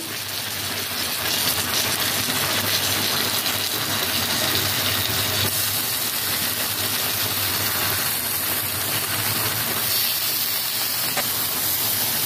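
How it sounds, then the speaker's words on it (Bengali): Drained chicken hits hot spice masala in a pan, setting off a loud, continuous sizzling hiss that stays steady and close throughout. "এবারে দিয়ে দিচ্ছি জল ঝরিয়ে রাখা চিকেন"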